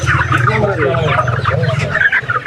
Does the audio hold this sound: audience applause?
no